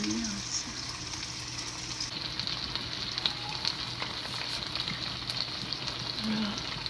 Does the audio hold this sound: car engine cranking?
no